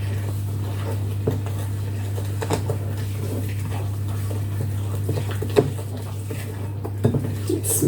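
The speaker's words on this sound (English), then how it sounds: "Now mix all of this together." Pepparkakor cookie ingredients being mixed in a bowl, with steady scraping and clinking of a utensil against the bowl and occasional sharper knocks over a constant low background hum.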